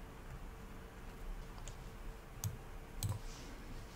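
A computer mouse gives two quiet, sharp clicks about half a second apart, over a faint steady hum, during a software installation.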